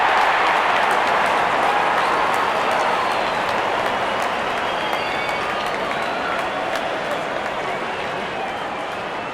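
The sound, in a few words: crowd cheering in a cricket video game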